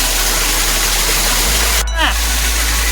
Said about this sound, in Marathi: हा पाण्याचा स्तोत्र आपण या ठिकाणी पाहू शकता हा संपूर्णता नैसर्गिक झरा आहे